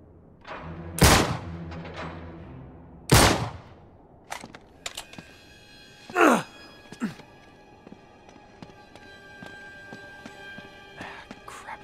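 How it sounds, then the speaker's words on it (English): In Uncharted 3, two loud, sharp gunshots ring out about two seconds apart as a lock is shot off, followed by a third blast, metallic clatter and a lingering ringing tone. "Back up, I'll shoot the lock."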